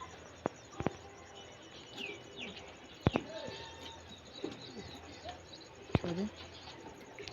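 Kaldom pigeons in a loft at evening, many sitting on eggs, give soft intermittent coos and chirps along with a few sharp clicks, with faint voices in the background.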